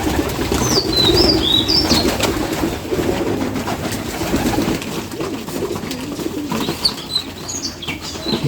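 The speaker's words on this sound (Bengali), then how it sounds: "এই যে এটা আমাদের বাচ্চা পেঁয়াজের বাচ্চা এই কবুতর ঘরের তৃতীয়" Pigeons in a pigeon loft, with young birds present: close bursts of wing flapping, heaviest early on, with soft cooing and chirps in between.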